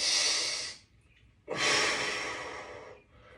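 Two long, breathy exhales during a full-body stretching and recovery exercise, close and airy, separated by a short pause, with no talking.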